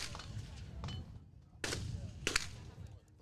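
Rifle shots at a women's elite tactical shooting competition, two or three sharp cracks a few seconds apart, mid-distance outdoors with some faint chatter in the background.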